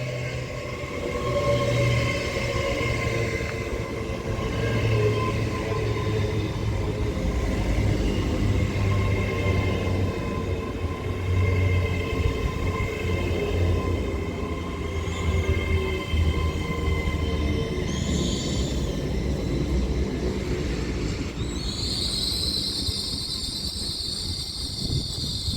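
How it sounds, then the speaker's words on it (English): An Avanti West Coast Class 807 electric train pulls into Runcorn station, a steady loud rumble with sustained tonal motor whine, rising hiss and squeals as it slows near the platform. "this Avanti West Coast Class 807 arrives into Runcorn"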